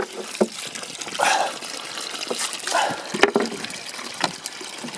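Water gushes and trickles from a sump pump discharge line clogged with minerals, a close, uneven splashing and gurgling with intermittent bursts and drips.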